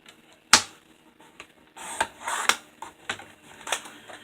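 Card stock is trimmed on a paper trimmer, giving a series of sharp, close clicks and snaps at irregular intervals, with soft sliding and cutting noises between them.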